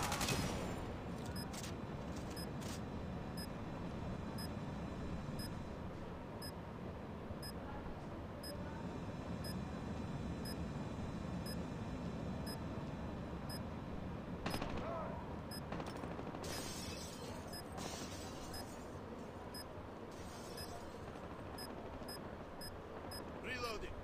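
Sustained bursts of automatic gunfire and scattered shots crackle through a Call of Duty team deathmatch, mixed with game beeps and effects and brief voice callouts.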